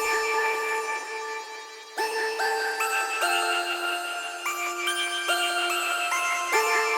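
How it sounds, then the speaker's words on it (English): A plucky synth melody for a rage beat layered over a sustained, pad-like synth tone, notes moving in a repeating pattern with a smooth, full backing. "Almost like a pad, but it's still sort of a synth sound."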